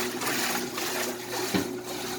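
The agitator of an antique wringer washer churns a small amount of water, a steady loud sloshing and humming drone with a low mechanical tone running underneath.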